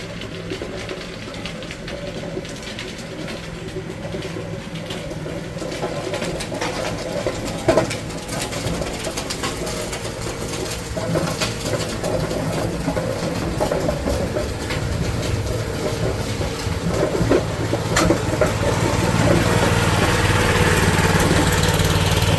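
A Roll-pac roller tractor, its drums filled with water for weight, runs as it is unloaded off a trailer: a continuous engine chugging that slowly builds and grows louder, with no talking.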